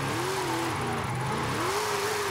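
Revving engine of a huge stretch limousine in the racing game Forza Horizon 5, droning steadily and held high in the revs with rising and falling pitch sweeps throughout, loud and continuous with no talk.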